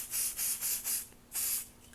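Short hissing bursts from a can of Smoke Saber test smoke sprayed into a fire alarm detector, four quick puffs followed by a longer spray, soft and close.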